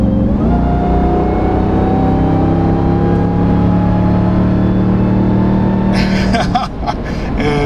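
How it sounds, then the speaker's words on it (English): A RAM 1500 TRX fitted with an aFe intake whines from its supercharger at low speed, a close, steady, singing tone over engine rumble that climbs slightly in pitch before a rough disturbance near the end. "That's the low speed sing of the supercharger."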